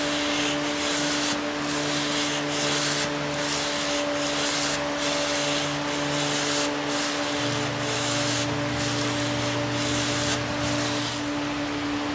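A handmade knife blade is hand-sanded to 220 grit in steady back-and-forth strokes, a continuous loud, close rasp with regular rhythmic pulses. A constant tonal hum sits underneath and no one talks.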